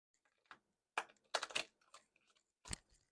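Tarot cards shuffled in midair, giving a few crisp, close flicks and snaps in short bursts separated by quiet gaps.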